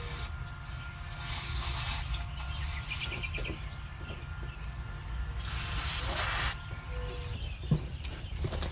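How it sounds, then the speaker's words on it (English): Brake cleaner sprays from an aerosol can onto a stuck part of a 1971 Dodge D100 pickup abandoned for 34 years, giving a steady close hiss in long bursts with brief pauses between them. "one thing I got is brake cleaner. So, let's just see what that does to it."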